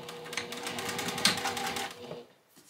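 A domestic sewing machine back stitching binding onto a quilt edge, a steady rapid mechanical chatter of needle strokes up close, slowing and stopping near the end.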